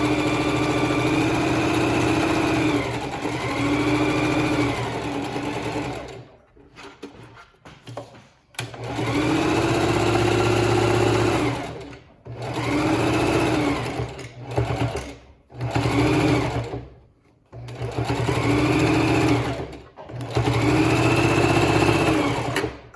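A sewing machine stitches fabric and ribbon in a long run of steady, fast mechanical whirring. The runs stop several times, with short pauses and bursts of stitching between them.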